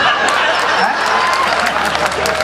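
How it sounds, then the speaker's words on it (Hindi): Audience at a speech breaks into steady, fairly loud clapping that keeps going, with a faint murmur of crowd voices and light chuckles mixed in. "आप खुल के ताली बजाना"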